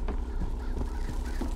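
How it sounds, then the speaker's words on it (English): Bird squawks from the video game Bioshock Infinite, several short calls spaced about every half second over a steady low background hum, fairly faint. "my birds are still up there, that's good to know"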